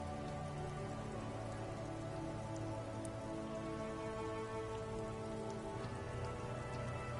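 Steady rain in a PS5 video game pours down continuously over a city, a dense hiss of drops pattering on surfaces with no voices, evenly loud throughout.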